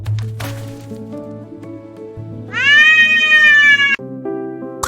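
Animated cartoon cat giving one loud, drawn-out meow in the middle of the clip, set against quiet background music tones with a soft thump near the end.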